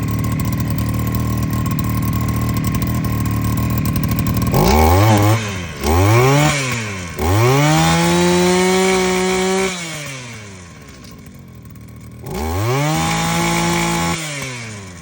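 An Oleo-Mac 753 petrol brushcutter's two-stroke engine idles steadily, then revs up hard several times in rising and falling surges, loud and close, with no talking.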